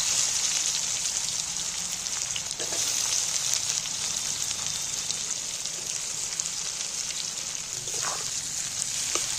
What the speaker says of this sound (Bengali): এবার আমি তেলের মধ্যে পেঁয়াজগুলোকে ভালো করে লাল লাল করে ভেজে নেব।